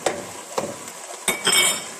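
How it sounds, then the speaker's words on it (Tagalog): Homemade shawarma filling is stirred in a hot pan with a utensil: several scraping, clinking strokes at uneven intervals over a light sizzle, close and fairly loud. "Mix lang natin siya ng mix. Hanggang matuyo siya."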